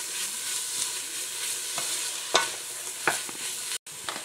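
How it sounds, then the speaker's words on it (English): Bacon and leeks frying in a pan for a risotto, giving a steady close sizzle with a few sharp crackles and spatters and one brief dropout near the end. "I'm going to add the bacon now. Just let that fry down for another couple of minutes or so."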